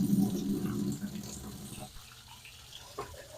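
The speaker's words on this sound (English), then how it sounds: "They rinse out. They rinse out real good." Running water rinsing aquarium canister filter media pads, a steady splashing pour that is loudest at first, then stops and leaves faint drips and handling noises.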